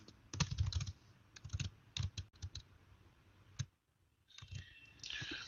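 Rapid clusters of close, crisp key clicks from a computer keyboard as a program is typed, in uneven bursts with a brief pause before typing resumes, no talking.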